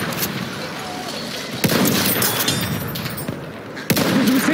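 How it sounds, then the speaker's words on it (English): Machine gun fire in a Battlefield 1 conquest battle, a loud sustained rattle of rapid shots with sharper reports cutting in near the start and end. "There's a machine gun."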